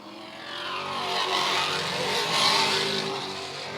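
Race cars roar around the Mt. Lawn Speedway oval during a late-race green flag run, a loud, continuous engine drone that swells and fades slightly as the pack passes.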